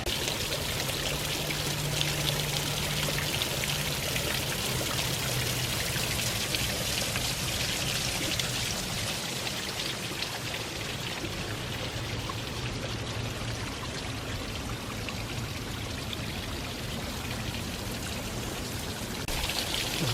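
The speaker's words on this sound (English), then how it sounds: "I've seen a lot more water coming over that falls," Water pouring over a small falls at Iroquois Park on a February day, a steady, dense rushing and splashing that holds constant and fairly faint throughout with no voices.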